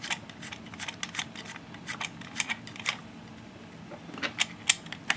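Small metal thumb screws threaded onto a Du-Bro Tru Spin prop balancer give a string of light, quick clicks and scrapes, close and quiet, with a busier cluster near the end.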